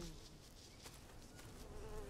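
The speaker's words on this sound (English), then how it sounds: "Thought I heard a bee." Low, steady insect buzz of a bee in the Green Hell survival video game, faint and continuous for about two seconds with no talking.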